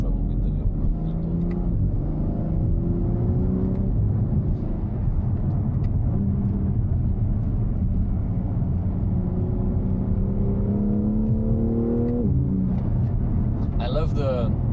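A BMW M3 Competition M xDrive Touring drives with its exhaust valves open, revving through rising gear pulls with shifts in between, loud and close, with someone talking over part of it.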